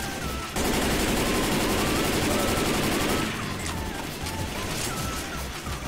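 Dense, continuous gunfire from several weapons in Left 4 Dead 2, a sustained rapid barrage that stays loud for most of the stretch and thins into scattered shots near the end, with faint voices in the mix.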